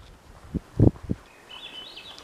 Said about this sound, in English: It's the Swainson's thrush.